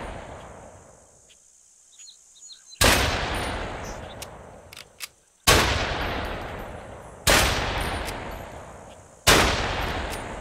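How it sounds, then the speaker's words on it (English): Gunfire in the post-apocalyptic game Fallen Earth as shots are aimed at a crate: four loud, sharp reports a couple of seconds apart, each with a long decaying tail, after a quieter stretch of faint rustles and small clicks. "I'm shooting a crate."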